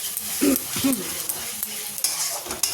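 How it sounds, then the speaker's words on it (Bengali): Spice masala of onion, ginger, garlic, tomato and ground spices being stir-fried with jackfruit in a pan: low sizzling under sharp scrapes and clinks of a spoon against metal, close and uneven. "এখানে মশলাও কষা হয়ে গেছে আর একটু কষতে লাগবে"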